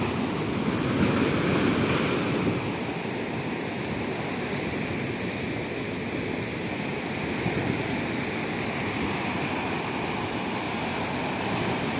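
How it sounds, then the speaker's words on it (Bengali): Sea waves break along Mandermani beach at full high tide under a strong, cold wind, making a steady, dense roar of surf and gusts that swells slightly louder in the first few seconds and continues with no voices. "আর এই সমুদ্রের পাড়ে প্রচণ্ড হাওয়া দিচ্ছে, ঠান্ডা হাওয়া।"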